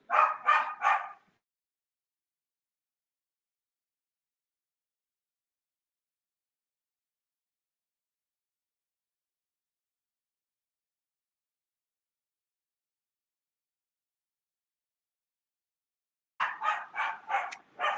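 Two dogs bark at an Amazon delivery man stepping onto the porch, a quick burst of sharp barks at the start, then long silence, then another volley at the end.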